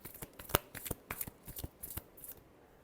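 Tarot cards are shuffled close to the mic, a quick run of soft riffling flicks and crisp slaps in an uneven rhythm, quiet and with no talk.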